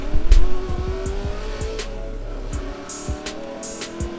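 Hot Wheels toy cars, an RX-7 and a Volkswagen Beetle, race down a long drag track, giving a close, loud rush of small wheels with sharp clicking bursts and rumbling track noise that fades slightly toward the end.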